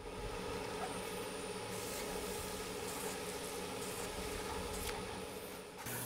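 A wood lathe spins a cigar holder with a fresh cyanoacrylate coat, its motor giving a steady, continuous mechanical hum and whir at moderate loudness throughout, with no talking.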